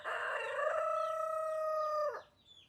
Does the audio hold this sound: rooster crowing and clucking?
yes